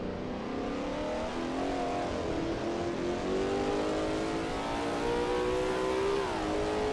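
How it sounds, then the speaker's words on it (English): A Lola T70 MkII Spyder race car engine roars steadily at high revs at the Österreichring, pitch climbing through gears and dipping briefly near the end, loud and continuous. "the sounds of cheering fans should just barely be audible over the roar of the engine"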